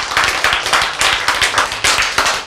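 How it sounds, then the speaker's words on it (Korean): A small group of people claps together at a talk on genes, a brief rhythmic burst of hand claps in uneven pulses, fairly close and loud, with no voices over it. "이것도 박수 한번 쳐야 돼."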